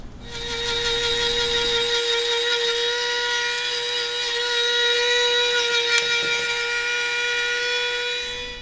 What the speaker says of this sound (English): I'm going to add it to my herb grinder